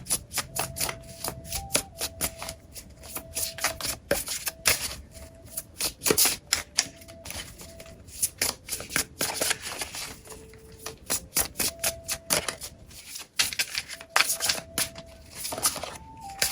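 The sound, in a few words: shuffling cards for a card reading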